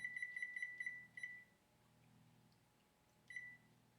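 A kitchen timer beeps in a quick run of short, sharp tones while it is set for cooking, then falls silent and gives one more brief beep, close and clear in a quiet kitchen.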